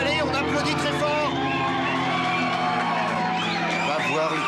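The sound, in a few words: audience applauding and cheering loudly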